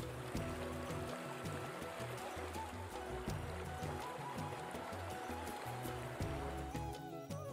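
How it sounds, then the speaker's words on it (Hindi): The Gandak river babbles past at Valmiki Tiger Reserve with a continuous rushing, gurgling flow. It stays steady throughout at moderate distance, under a rhythmic musical backdrop. "एक और कलकल बहती गंडक नदी"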